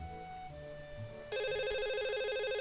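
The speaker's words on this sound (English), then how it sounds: "that fucking phone scared me" A telephone in the visual novel Katawa Shoujo suddenly starts ringing, a loud steady electronic trill cutting in after quiet background music and continuing alone.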